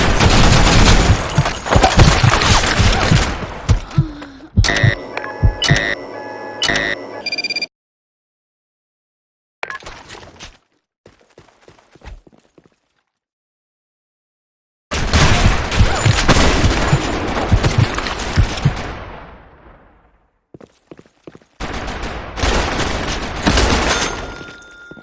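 Counter-Strike style video game gunfire rattles in loud, dense automatic bursts and single shots, separated by sudden silent gaps.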